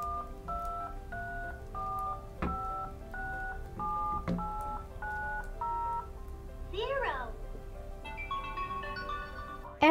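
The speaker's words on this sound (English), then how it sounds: "the buttons down here, it will be telling you the tone and also pretend to be like a phone" A LeapFrog Chat & Count Emoji toy phone plays a rapid run of electronic button-press tones and short melodic jingles, with a rising chirpy effect near the end, close and clear over faint background voices.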